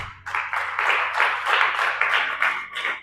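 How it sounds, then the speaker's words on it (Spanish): A church congregation applauds at a Spanish-language service led by pastors, sustained dense clapping in steady pulses with cheering and voices mixed in throughout. "Denle un aplauso al Señor."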